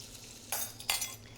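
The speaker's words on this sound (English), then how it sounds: "I'm just going to saute this for about 15 minutes until the vegetables are just tender and the onions are nicely browned" Yellow onions and vegetables sauté quietly in a large stew pot, with two brief scraping stirs breaking a soft, low sizzle.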